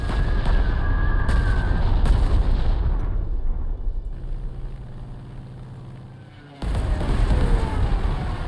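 Artillery bombardment in the strategy game Panzer Corps 2: a heavy, rumbling barrage of booming impacts that dips briefly, then surges back loud and dense.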